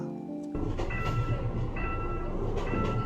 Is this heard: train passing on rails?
yes